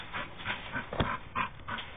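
A dog makes soft whimpers and short yips in a few faint bursts, heard close but quiet, with no talking.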